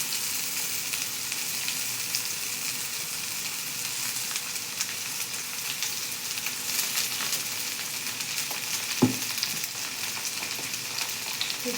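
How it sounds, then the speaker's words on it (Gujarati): Ivy gourd frying in a pan, a continuous bright hiss and crackle of hot oil held steady throughout, close up, with one sharp utensil knock near the end and no talking. "ટીંડોળા અંદર કરી દઈશું."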